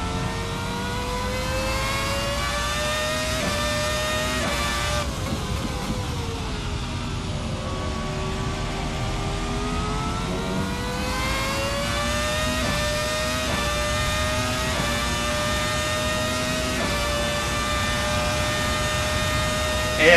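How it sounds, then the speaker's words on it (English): A race car engine in a sim racing game revs and climbs through the gears, a strong mid-pitched drone rising and dipping with each shift, loud and continuous throughout. "The engine sounds wonderful and running great."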